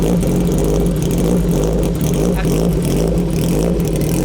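A 2019 Kawasaki Ninja H2 with a supercharged engine revs loud and close, holding a steady, dense roar without a break.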